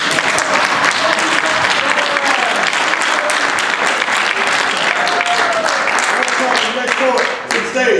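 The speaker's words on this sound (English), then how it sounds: "Y'all clap." A crowd at a men's spoken word event bursts into loud, dense applause that carries on steadily for several seconds, with cheers and voices mixed in before it begins to fade.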